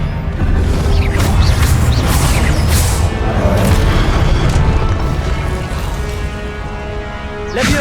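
An Expelliarmus spell from the Hogwarts Legacy video game bursts out as a loud booming whoosh with crackling magical impacts, dense and sustained throughout amid the ongoing combat noise.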